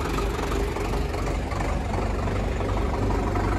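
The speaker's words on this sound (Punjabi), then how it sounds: "ਆਵਾਜ਼ ਬਹੁਤ ਸ਼ਾਨਦਾਰ ਆ ਬਾਈ ਟਰੈਕਟਰ ਦੀ" A new Indofarm 3055 tractor engine idles with a steady, loud low rumble that holds even and unbroken from start to end, with no voices over it.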